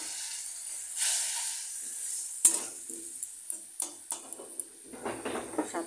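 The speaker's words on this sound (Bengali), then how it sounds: "এই যে মশলাগুলি এখন ছেড়ে দিচ্ছি, ছেড়ে দিয়ে একটু জল দিয়ে দেব।" Spices and green chillies fry in a pan with a bright, continuous sizzle and hiss, punctuated by a series of sharp clicks and scrapes from stirring, close and moderately loud.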